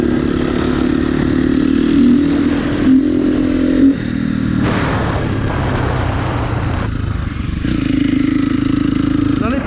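A motorcycle engine with a likely clogged air filter sputters and surges unevenly, loud and close, its tone dropping and returning in uneven bursts with clattering mechanical noise throughout.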